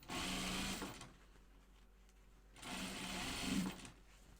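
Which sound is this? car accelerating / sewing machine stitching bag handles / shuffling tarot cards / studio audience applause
sewing machine stitching bag handles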